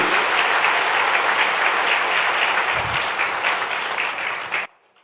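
Loud, sustained applause from a large audience at a live Web3 event in Delhi, filling the room steadily for nearly five seconds before cutting off abruptly.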